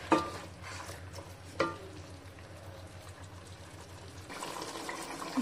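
Mutton rogan josh masala with ginger-garlic paste sautéing in a pan, with soft sizzling, stirring and scraping, a couple of sharper clinks near the start and a rise in frying noise toward the end.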